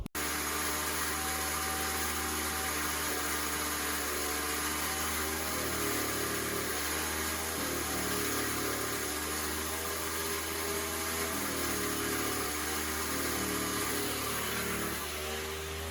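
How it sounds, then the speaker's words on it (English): An air compressor inflating tires on a 1970 Chevy runs continuously with a loud, steady mechanical drone and motor hum, close by, with no talking. "So I'll get the compressor fired up"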